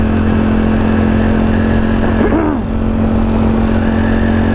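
A 2021 Ducati Streetfighter V4 motorcycle engine drones steadily and loud while riding in sport mode, a continuous close exhaust note with a brief pitch dip midway and constant wind roar.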